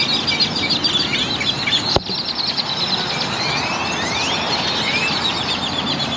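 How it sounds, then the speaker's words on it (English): Outdoors a large flock of birds keeps up a busy, overlapping chorus of chirps and calls, interrupted once by a single sharp click or knock midway, with no speech. "Look at all these birds up here."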